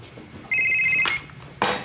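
A cell phone rings at a dinner table with a bright electronic ringtone lasting about half a second, followed by a brief clatter and a second burst of sound; there is no talk.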